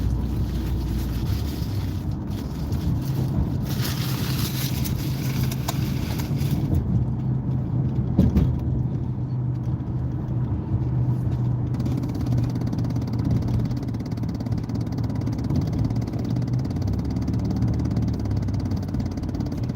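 A car travels at about 30 mph in traffic near a utility truck hauling a flatbed, giving a steady interior engine and road drone with a continuous low rumble throughout.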